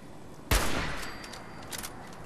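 A single sharp, loud sniper rifle shot rings out in the Fallout 4 video game, its echo decaying for over a second, followed by faint distant crackles.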